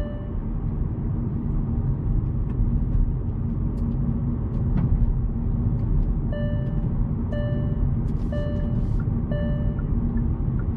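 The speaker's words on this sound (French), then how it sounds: "Vous entendez la boîte de vitesse quand elle change de rapport?" A 2025 Hyundai i20 driving along a road, with a steady low engine and road rumble throughout and a few brief tonal changes later on, where the gearbox shifts smoothly.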